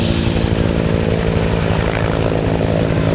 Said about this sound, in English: The Whiskey Model Cobra is the latest of a very long Cobra line dating back into the 60s